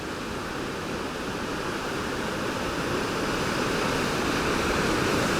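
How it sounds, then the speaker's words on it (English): Steady broadband roar of the Aguasabon River Gorge waterfall on Lake Superior's north shore, a continuous rushing wash of falling water with no voices. "And what a dynamic waterfall it is."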